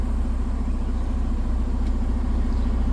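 A truck's diesel engine idles in forward gear with the tractor brake set, a steady low rumble with a regular throb that holds at an even level throughout, no talking.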